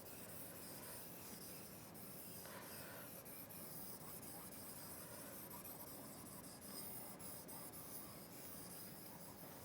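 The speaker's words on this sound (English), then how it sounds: "Let us erase some part to have that." Writing is erased from a classroom board during a physics lesson, a faint, steady scrubbing and rubbing that continues without pause, with no talking.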